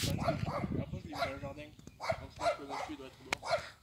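A dog tied to a tree in a rural village garden barks repeatedly in short, sharp yaps, moderately close, with a steady rhythm of roughly one bark every half second.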